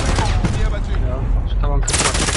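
Gunfire in a shooter video game rattles in rapid bursts throughout, loud and close, with voices talking over it.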